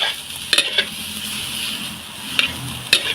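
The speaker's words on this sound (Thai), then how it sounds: "ผัดไปพลิกไปพลิกมาคนไปคนมาแบบข้าวผัดข้าวผัดจ้า หอมดาดในกระทะให้มันอร่อยนะจ้า" Fried rice being stir-fried in a wok gives a continuous close sizzle, broken by sharp spatula scrapes and tosses at irregular moments. No voices are heard.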